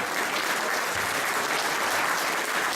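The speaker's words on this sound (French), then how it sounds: "Applaudissements s'il vous plaît." An indoor audience applauds volunteers and technical services with steady, even clapping from a moderately distant crowd, sustained without break.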